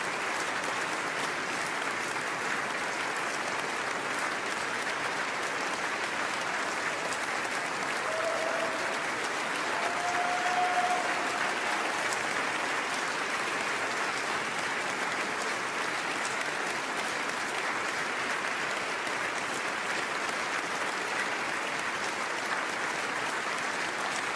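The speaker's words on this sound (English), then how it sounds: "And the applause continues." Sustained applause from a large crowd, steady and even throughout, with no voices standing out above the clapping.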